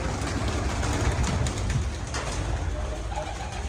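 Racing pigeons that have won contests coo in low, repeated murmurs close by, partly buried in a steady broadband rumble and background hiss.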